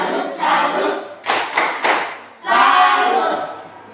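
A group in a school class does rhythmic 'tepuk salut' clapping, loud and close: a sustained burst, three quick sharp claps, then another long burst.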